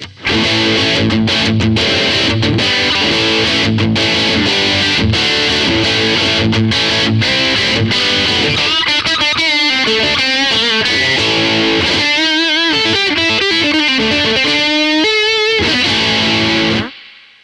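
An electric guitar plays through AmpliTube 5's Satch distortion, modeled on a modded DS-1 pedal, loud and saturated: chugging chords first, then a sustained bending lead line that rings out and stops abruptly.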